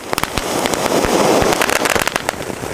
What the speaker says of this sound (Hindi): तो अब हमारे पास है क्रैकलिंग किंग, तो ये मलिंगा लेकर जा रहा है क्रैकलिंग किंग को इधर साइड में